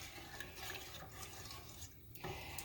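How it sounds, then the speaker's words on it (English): A spoon stirs lemon meringue pie filling in a pot on a stove at medium heat, making faint, continuous scraping and swishing strokes with a brief pause near the end, no talking. "And you're going to continue to stir this"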